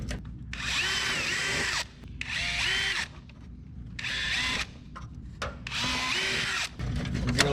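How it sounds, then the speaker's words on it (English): A power drill whirs in four bursts of roughly a second each, with short pauses between, drilling holes to remount a piece during maintenance work on a vehicle, close and fairly loud. "Drill us a couple holes"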